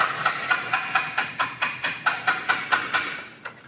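Flat-headed hammer tapping sheet metal on the corner of an anvil while forming a box: a steady run of about fourteen light, evenly spaced metallic taps, close and clear, fading slightly at the end.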